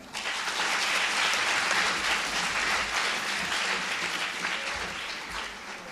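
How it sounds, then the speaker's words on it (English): A large audience applauds at a college foundation day and prize ceremony in Aurangabad: dense, steady clapping fills the whole stretch at full strength and eases only slightly toward the end, with no voices over it. "so please keep clapping"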